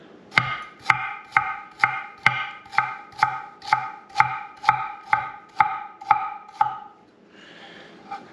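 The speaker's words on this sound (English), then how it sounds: "And I'm just gonna slice it." A knife slices chilies on a cutting board for birria chashu ramen, about thirteen crisp, evenly spaced strokes, close and clear, followed by a brief softer rustle.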